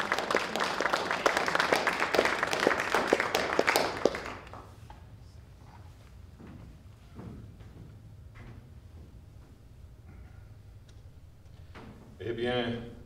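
An audience applauds to welcome a speaker, with a dense burst of clapping for about four seconds that then dies away to quiet room sounds and a few knocks, and a voice briefly at the end.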